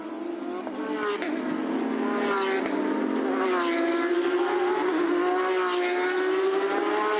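Porsche Carrera Cup Asia race cars on a formation lap, a steady rising and falling engine drone with several cars blending together, continuous and fairly loud with gear changes audible throughout.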